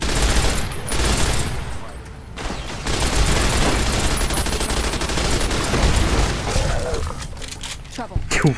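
Fast-firing weapon in a video game letting off a dense, continuous burst of rapid shots, loud and close, with a person talking over it.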